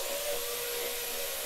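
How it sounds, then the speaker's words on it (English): A small 5-inch angle grinder with an attached vacuum grinds a concrete floor during crack repair, giving a steady, loud, continuous whine with a strong tonal hum that runs unbroken throughout. "I got my little 5-inch grinder hooked to a vacuum."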